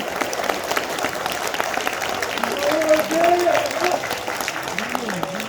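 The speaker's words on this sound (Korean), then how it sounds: "박수." Applause from a crowd of party members at a People Power Party member convention fills the hall steadily, with a voice briefly rising over the clapping midway.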